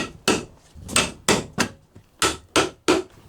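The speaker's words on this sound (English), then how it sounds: "Hammer tacker." A hammer tacker fires staples during exterior home renovation work, fastening material down in a series of about eight sharp, close, loud whacks at an uneven rhythm, with no talking.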